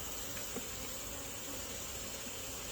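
Honeybees at a hive in late August make a steady, close insect drone that holds evenly throughout, with no voices over it.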